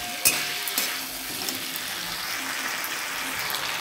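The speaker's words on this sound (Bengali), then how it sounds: "এবারটা আমি ভালো করে কষে নেবো যতক্ষণ না মশলা থেকে তেল বেরোচ্ছে" Ground spice paste sautés in oil in a pan, a soft continuous sizzle heard close, with a couple of sharp utensil clicks near the start.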